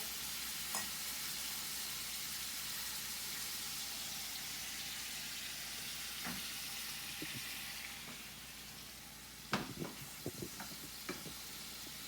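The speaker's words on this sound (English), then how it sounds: "Now these are getting a nice sear on them." Wild-caught scallops sear in a hot pan with a steady, even sizzle that fades slightly toward the end, followed by a few sharp clinks and taps near the close.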